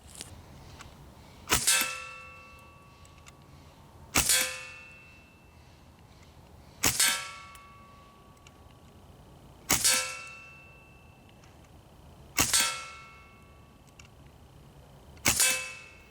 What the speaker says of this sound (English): now I'm going to shoot slowly and see what happens